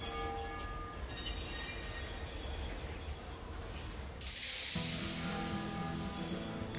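In the game Bounty Train, a train rolls along steadily with a dense, continuous rumble of wheels and carriages, then a brighter hiss and rising metallic tone swell near the end.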